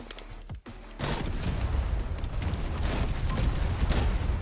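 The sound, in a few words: airstrike explosions in video game Mech Havoc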